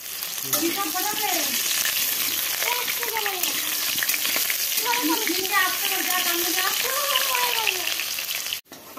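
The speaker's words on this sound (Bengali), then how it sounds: "জিরে, গরম মশলা, দারচিনি, লবঙ্গ দিয়ে নিয়েছি, তেল, আলু ভেজে নেব" Potatoes frying in hot oil with cumin, garam masala, cinnamon and cloves give a steady, loud sizzle throughout, while someone speaks over the cooking.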